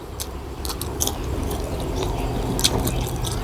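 Crunchy bites into a fresh chili pepper while eating spicy beef, with close, loud crisp snaps and wet chewing spread across the clip.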